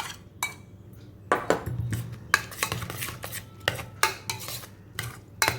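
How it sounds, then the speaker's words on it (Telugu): Bhel puri being mixed by hand, ground paste stirred into chopped onions and tomatoes, with a run of close, sharp clinks and scrapes of a utensil against a bowl in irregular bursts over a low hum. "ఉల్లిపాయలు టమాటాలు వేసి కలిపాం కదా అందులోనే ఈ పేస్ట్ కూడా వేసి కలిపేయాలి"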